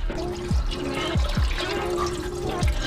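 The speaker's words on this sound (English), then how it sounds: "you let the vast majority of the oil drain out for, I don't know, 5 minutes until it gets to a slow drip." Engine oil pours out of a Ford Mustang GT's drain during a DIY oil change, a close, steady liquid trickle and splash with a few low thuds, no voices.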